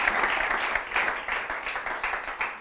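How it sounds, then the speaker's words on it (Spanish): Audience applause at a talk celebrating a speaker's 70th birthday, a steady dense clapping from a room of people, moderately loud and continuous with slight swells. "coño, un aplauso, joder, para celebrar"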